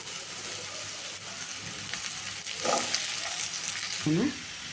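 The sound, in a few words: ridge gourd frying in oil in a pan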